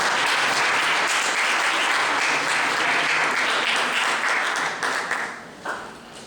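A large audience at a university criminal law lecture in Peru claps steadily in a dense, sustained applause that fades out near the end.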